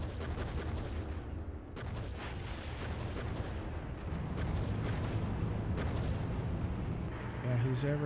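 Tank battle video game combat: booming explosions and incoming fire rumble through, with sharp blasts scattered over a continuous roar, while voices talk over the action.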